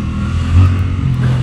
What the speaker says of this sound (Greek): ο κινητήρας έχει ιδιαίτερο νεύρο, να πούμε βέβαια ότι είναι ένας δικύλινδρος εν σειρά, 689 κυβικών εκατοστών